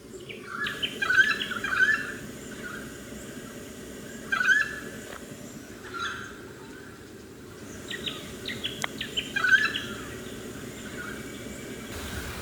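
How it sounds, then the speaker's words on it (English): Several birds chirp and sing in short bursts in the early morning, fairly close and lively, over a quiet outdoor background with gaps of calm between the calls. "Now just waking up to the sound of the birds."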